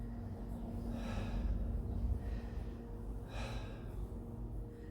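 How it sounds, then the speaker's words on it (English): Slow, deep breaths in and out during a standing energy-work exercise in a squat stance, three soft breathy swells at an even pace, close and quiet over a low steady hum, with no speech. "So breathing in and out, in and out,"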